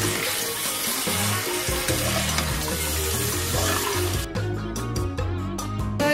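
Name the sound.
chicken meat frying on high heat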